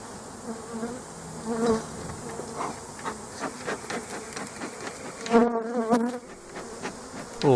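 Honey bees buzz around an open hive during a frame inspection, with many close insect drones rising and falling in pitch and loudness and some sharper buzzes passing near.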